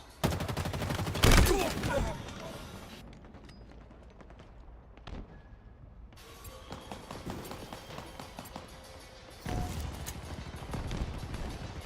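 Rapid gunfire in a sci-fi shooter video game with sniper rifles and rocket launchers, made of loud repeated bursts with quieter gaps between them and brief game voice announcements over the top.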